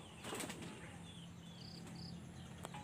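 Pigeons from a backyard loft burst into flight with a flurry of flapping wings near the start, then quieter wingbeats and a few bird chirps over light background noise.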